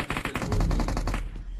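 A quick burst of M4 rifle fire in a video game, sharp evenly spaced shots crackling close and loud for over a second, then trailing off, with no talking.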